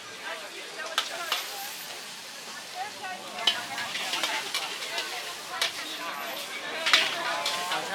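Pad thai is stir-fried at a street food stall in Bangkok's Yaowarat Chinatown. Sizzling crackles run throughout, with repeated sharp clanks of the spatula on the wok and a few voices in the background.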